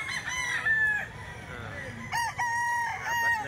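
Several roosters crow in overlapping calls, one after another, fairly close and clear against a low background murmur.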